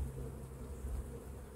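A steady, dense buzz of many honey bees swarming close by, continuous and unbroken with no voices.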